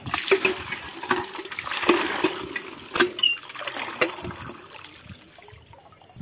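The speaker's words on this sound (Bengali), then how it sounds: "এবার মানে পেয়ারা গাছটা জল দিতে হবে" Water poured onto a guava tree in a garden, splashing and trickling in uneven bursts at close range, with faint background noise and no talk.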